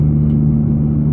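Engine of a Mini Cooper GP race car drones steadily from inside the cabin, a loud, even mid-pitched hum with no speech over it.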